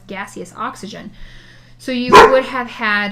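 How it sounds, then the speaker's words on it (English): A single sharp dog bark bursts out close by, cutting across a man's ongoing lecture-style speech. "oh, excuse me, that's my dog"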